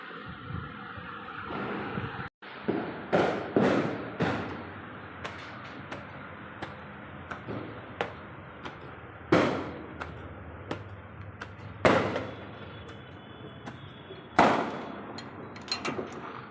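Diwali firecrackers bursting outdoors, a long irregular series of sharp cracks and bangs, some loud and close, others faint and distant, with brief echoing tails between them and almost no talk.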